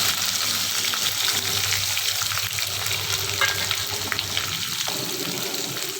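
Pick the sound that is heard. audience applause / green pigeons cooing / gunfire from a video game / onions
onions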